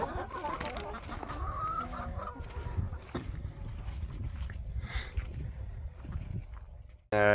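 Pasture-raised laying hens cluck steadily as they come out of their coop onto snow, a busy overlapping flock chatter close by, with a person talking over it and a brief loud burst at the end.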